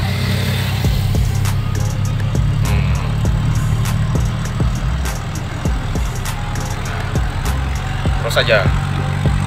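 A diesel car engine pulls in fifth gear at about 40, a steady low drone and strain, close and loud, with someone speaking briefly over it.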